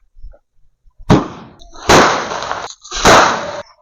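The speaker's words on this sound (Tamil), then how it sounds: "ஸோ அடுத்து இந்த சின்ன பீஸ் குறிவெடி வைக்கலாம்." Small kuruvi vedi Diwali firecrackers bursting outdoors, three sharp cracking blasts about a second apart, each trailing a brief hissing crackle, loud and close.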